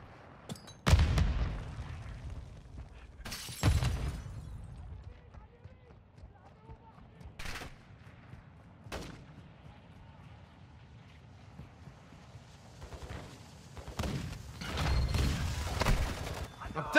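Incoming gunfire and explosions in Call of Duty Modern Warfare II arrive as scattered sharp cracks and heavier thuds, fairly distant and intermittent, with a louder rumbling burst near the end and a voice talking over the combat.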